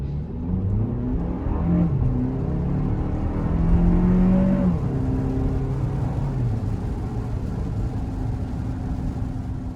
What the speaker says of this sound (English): So the first reaction of the NX350 was that it's a bit noisy.